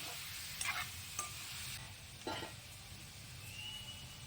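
Cut, washed chicken pieces fry in a pan during traditional village-style cooking, giving a low, steady sizzle with occasional scraping stir sounds close by.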